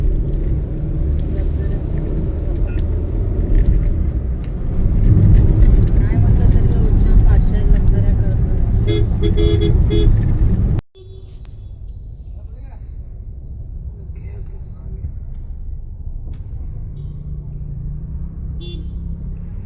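Road traffic of trucks and buses rumbling past on a Konkan highway near Kankavli, loud close engine roar with a few short horn toots, quieter after a brief cut, with people talking.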